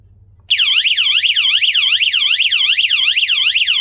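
A magnetic door-open alarm set with a rotary lamp siren kicks in suddenly and wails continuously, a loud, close electronic whoop sweeping up and down in rapid regular cycles.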